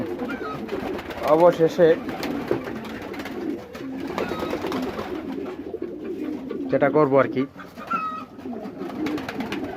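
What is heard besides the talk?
pigeon cooing while sitting on eggs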